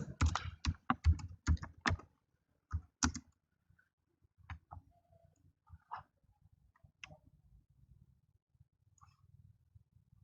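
Computer keyboard typing while writing JavaScript code: quick clusters of sharp keystrokes at first, then sparser, softer taps trailing off, close and quiet with no talk.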